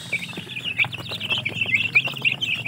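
Rhode Island chickens cluck and chirp steadily in a crowded cage, a dense flock chorus of overlapping calls with no talking.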